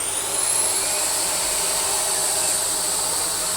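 A Dyson DC46 Allergy Parquet vacuum cleaner runs with a steady, loud broadband whoosh and a high whine, its release valve blowing continuously throughout.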